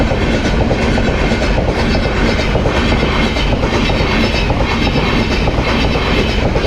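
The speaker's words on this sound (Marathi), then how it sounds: "वडूदच्या पुढं एक ट्रेन फाटक लागलं आहे. ट्रेन यायला लागले." A train rolls past a railway crossing near Vaduj on the road toward Lonand, with a loud, steady rumble and rhythmic wheel clatter. The noise stays close and continuous from start to finish.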